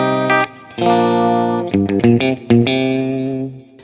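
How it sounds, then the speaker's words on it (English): Sterling Cutlass electric guitar played clean on pickup position 2, with sustained bright chords and a few quick choppy strums in the middle, close and prominent with no talking. "So again, lots of really great quack there."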